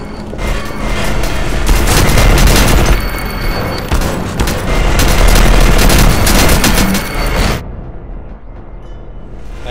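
Booming grenade explosions and rapid gunfire from the E.Y.E. Divine Cybermancy shooter game, loud and dense for about seven seconds and then dropping off suddenly into quieter rumbling.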